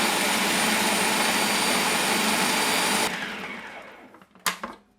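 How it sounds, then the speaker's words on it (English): A blender runs on high speed mixing a salmon burger mixture into a paste, a loud, steady whirring roar for about three seconds that then winds down and stops, followed by a couple of brief clunks. "We're going to cover this and mix it on high speed for about a minute until it starts to form a"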